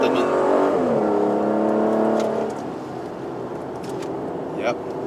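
Aston Martin DBS Superleggera, 2020 model, accelerating close by, its engine note climbing in a strong rising whine before a harsh gear shift cuts it off, followed by a quieter rumble as it pulls away.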